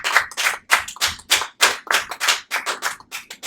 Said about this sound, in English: a round of applause to all these folks right here